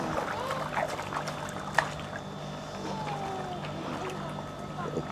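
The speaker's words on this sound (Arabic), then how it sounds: "واو دارين بتلعب في الميه وهتاخد معاها البابي" Dogs and a puppy play in a small backyard pool filled with balls, making soft, continuous sloshing and splashing close by, with voices talking over it.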